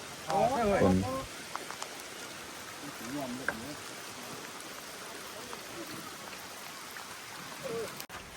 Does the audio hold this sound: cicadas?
no